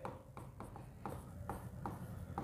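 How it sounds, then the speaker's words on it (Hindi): Handwriting on paper while notes are made during a class, with short scratchy pen strokes coming in an irregular rhythm of quick taps and scrapes, faint and close, with no voices. "तो हम सबसे पहले लिखेंगे"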